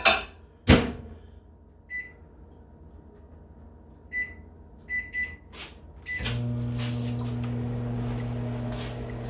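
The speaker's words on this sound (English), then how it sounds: "So we've got that in the microwave on high." A microwave oven set on high switches on after a few scattered clicks, door sounds and short beeps, then settles into a steady, loud electrical hum and whir.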